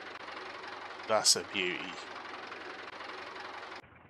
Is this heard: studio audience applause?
no